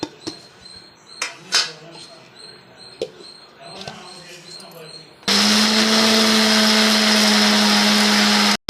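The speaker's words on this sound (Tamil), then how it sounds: "பைத்தம்பருப்பு வறுத்ததை மிக்சியில் போடுறேன்" Light clatters and knocks come first, then a mixer grinder roars to life, whirring loud and steady as it grinds roasted moong dal and sesame seeds until it cuts off abruptly at the very end.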